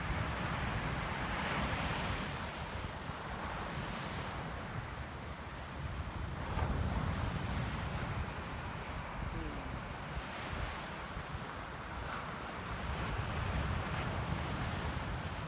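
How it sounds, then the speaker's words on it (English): Slow ocean waves roll and crash on a shore in a continuous wash of surf, swelling and receding at a relaxed pace, with wind buffeting the microphone. "So grateful for the ocean, for the sound of these slow crashing waves,"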